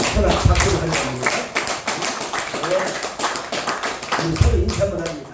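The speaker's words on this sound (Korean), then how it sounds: "서로 박수를 하십니다." Congregation clapping during a Korean Sunday church service, a dense patter of many hands with uneven bursts, under a speaker's voice.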